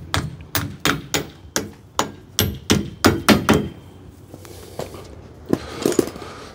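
A hammer drives a nail to fix plywood in place on a bricklaying job site. Roughly a dozen sharp, loud, close strikes come in a quick run, then a short pause and a few more blows.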